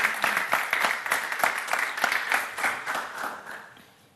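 An audience at a DrupalCamp conference talk in Spain applauds, a dense burst of clapping that starts strong and gradually thins and fades over a few seconds, with no voices.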